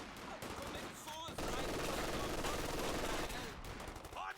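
MG42 machine gun fire in a strategy war game rattles in sustained rapid bursts, loud and close, mixed with other gunfire and battle noise while a commentator talks over it.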